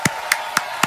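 Four evenly spaced hand claps sound in a steady rhythm, close and fairly loud with no talking, a solo applause gesture made while reacting to a Maury show segment.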